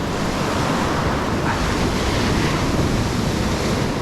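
Ocean surf breaks steadily on a fishing beach, a dense, continuous roar mixed with wind buffeting the microphone, with no speech.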